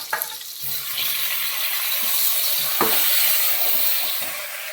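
Ivy gourd curry masala with tomato and curry leaves frying in a pan, a steady close sizzle and hiss with occasional stirring clinks, no talk.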